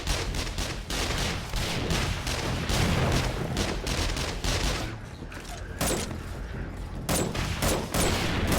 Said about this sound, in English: I like shooting off some rockets today